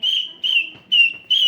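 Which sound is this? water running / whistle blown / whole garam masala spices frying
whistle blown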